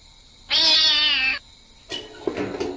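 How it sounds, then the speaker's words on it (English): A cat in the video game Rabbit Hill gives one loud, drawn-out meow, followed by a couple of shorter, rougher mews, close and clear against a quiet background. "Damn it, it's just a cat."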